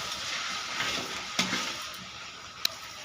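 Mutton is being stir-fried with meat masala in a home kitchen pan, a soft steady sizzle broken by a few sharp clinks of a spatula scraping the pan.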